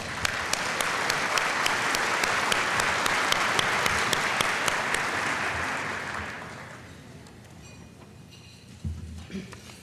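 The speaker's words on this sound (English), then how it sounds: "Let's hear a round of applause." A crowd at a chamber of commerce awards luncheon claps steadily for several seconds, loud and dense, then the applause tapers off and a few soft knocks follow.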